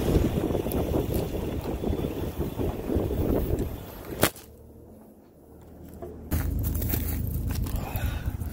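Strong wind gusting across a woodland cabin-clearing site, steady broadband rush buffeting the microphone, dropping briefly to a lull mid-clip before blasting back.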